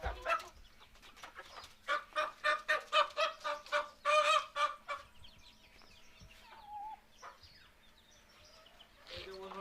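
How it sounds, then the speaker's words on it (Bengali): Tiger hens and a rooster cluck in a rapid, rhythmic burst of loud calls, then quieter scattered clucks and soft bird sounds follow close by. "এটা হচ্ছে মুরগি আরেকটি মোরগ আছে"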